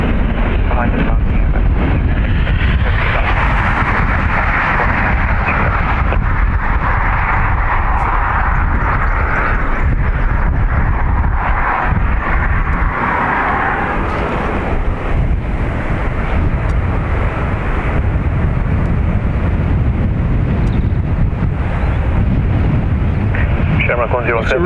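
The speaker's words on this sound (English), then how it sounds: "Behind the departure, I think it's Airbus 330, line up runway 2 right behind." An Airbus A330 airliner departs from a Dublin Airport runway, its jet engines roaring continuously and loudly with a broad rumble, mixed with heavy wind buffeting on the microphone.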